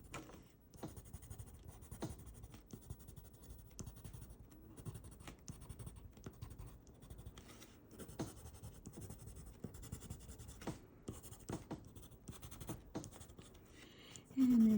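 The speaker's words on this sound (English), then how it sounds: "I think now I'm going to use my white pencil as my last thing to hit some of the highlights." A white colored pencil scratches softly across paper, laying in highlights with short, repeated strokes at a steady rhythm, quiet and close.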